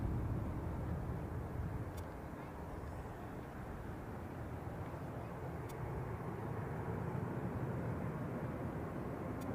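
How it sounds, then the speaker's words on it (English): An airplane at Leeds Bradford Airport gives a steady, low, distant engine rumble that holds evenly throughout as a continuous broadband roar with no distinct peaks. "Right, well I can hear the plane."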